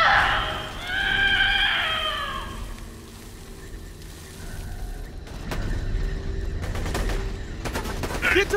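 Gunfire in Borderlands: The Handsome Collection comes as scattered shots and short bursts in the second half, set among other game sounds, with a tonal voice-like cry early on.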